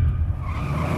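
A car skidding with a sustained screech of tires and a low engine rumble, loud and continuous for about a second, with no talk.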